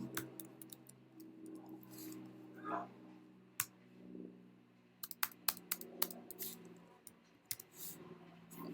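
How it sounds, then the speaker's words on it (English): Keys clatter on a computer keyboard as text is typed during photo-editing work on a magazine cover, with scattered sharp clicks and bursts of tapping over a low steady hum. "You can just type it in."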